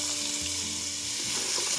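Onion hitting a hot pan of butter and sun-dried tomato oil for Tuscan chicken, giving a loud, close, steady sizzle that swells slightly near the end.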